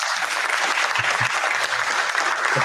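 Dense, steady applause and clapping celebrating a podcast's 200th episode, a continuous wash of hands at moderate loudness with no speech.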